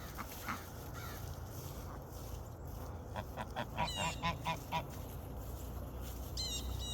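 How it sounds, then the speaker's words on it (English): Crows caw outdoors in short bursts of harsh calls a few seconds apart, fairly distant and faint over steady background hiss on an autumn morning. "We got crows right there."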